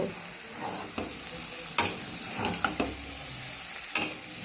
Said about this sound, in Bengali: আমি আলু আর সয়াবিন ভাজাটা এর মধ্যে দিয়ে দেবো দিয়ে ভালো করে নেড়ে চেড়ে নেব